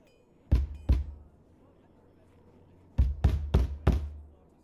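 Knocks land on a door in two groups: two sharp, solid raps, a pause, then four more in quick succession, loud and close against a quiet background.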